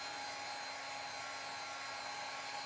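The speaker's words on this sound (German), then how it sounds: "jetzt föhne ich das eben nochmal" A hair dryer blows steadily and loudly throughout while drying glue on a leather repair for a 1970 Mercedes 280 SEL (W108) interior, a constant close whoosh with a faint tonal whine and no talk.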